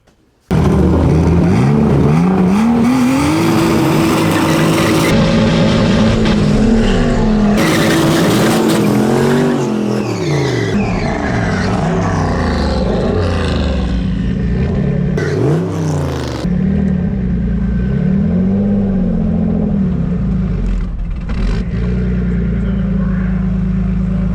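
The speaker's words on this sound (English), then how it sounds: "it looks like he's going to do another burnout" Drag car at a hot rod drag event doing a burnout, a very loud engine revving and wavering in pitch with harsh tire squeal and roar, sustained close-up with brief breaks and no talk.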